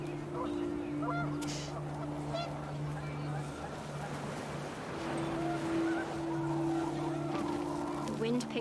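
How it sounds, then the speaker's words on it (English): Panicked geese honk in the game What Remains of Edith Finch, their repeated nasal calls sounding steadily over a dense, rushing wind and noisy outdoor ambience. "The wind picked up, and panicked geese appeared and quickly went."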